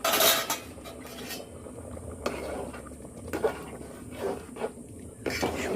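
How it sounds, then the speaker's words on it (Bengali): Khichuri with pumpkin, potato and carrot cooking in pots, metal utensils clinking and scraping against the pans in irregular bursts over a low simmering background. "এই দেখো খিচুড়ি হচ্ছে এখানে"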